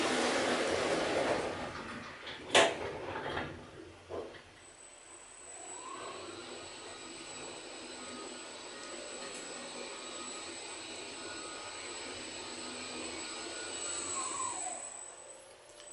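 A Balear/Orona traction elevator motor at the Majestic Colonial in Punta Cana hums steadily with a high electric whine, preceded by a couple of sharp clunks as it starts, heard up close without voices.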